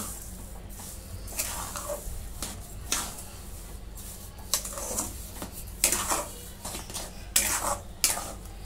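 Sugar being stirred into a mango mixture in a pan, a spoon scraping and clinking against the metal in irregular close bursts over a low steady hum, with no voices.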